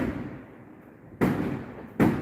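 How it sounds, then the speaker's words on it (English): Fireworks explode outside on New Year's Eve: two sharp, loud bangs about a second apart, each with a rolling tail, over a low background rumble. "Fuck these people out there with their illegal fireworks."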